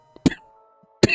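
Two sharp, close coughs from one person, separated by a short quiet gap, loud against near-silence.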